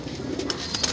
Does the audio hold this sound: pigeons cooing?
yes